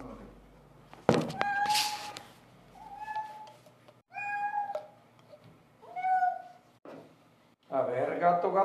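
A house cat meows repeatedly, several drawn-out, plaintive calls spaced a second or two apart, close by, with a person speaking softly between them.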